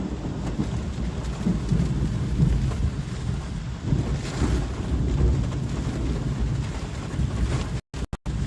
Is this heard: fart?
no